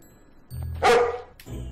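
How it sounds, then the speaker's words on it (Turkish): A dog gives a single loud, close bark with a short yip-like follow-on, between quieter low background noise. "Psikopata bak köpeğe. Köpeğe bak sen."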